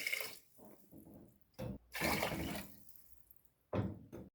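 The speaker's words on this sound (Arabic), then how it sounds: "كنديرو اللي كنغسلو بشويه ديال الماء" Rice being washed in a bowl with a little water, bursts of sloshing and splashing alternating with quieter gaps, close and fairly loud with no voices.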